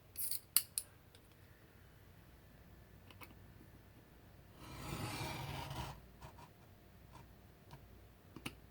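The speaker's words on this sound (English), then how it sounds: "I am going to use my ruler and my cutting ruler and my, where is it? My craft blade to make my cuts." A craft blade drawn along a ruler slices through a card file folder, a sustained scraping cut of about a second standing out from quiet surroundings, with scattered small taps and clicks before and after.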